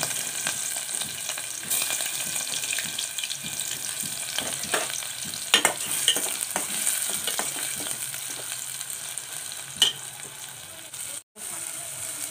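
Onion sizzling in hot oil in a pan for a fish dish, a steady crackling fry broken by scraping stirs and clinks of the spoon, with a brief dropout near the end.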